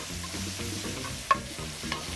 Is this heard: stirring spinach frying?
yes